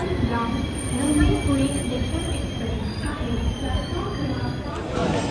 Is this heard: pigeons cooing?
no